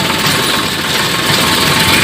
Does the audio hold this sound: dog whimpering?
no